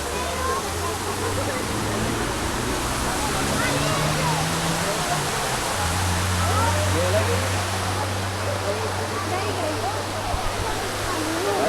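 Jummapatti waterfall roaring as a loud, steady broadband rush of falling water, continuous and close, with low rumbling underneath throughout.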